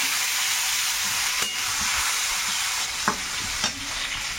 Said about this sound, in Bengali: তেলের মধ্যে 5 ফোড়ন দিয়েছি, একটু থেতো করা রসুন আর তেজপাতা দিয়ে।